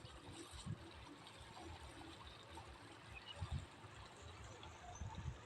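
Water runs steadily along a farm irrigation channel with a soft trickling, gurgling flow, fairly quiet and continuous, with a few low thumps along the way.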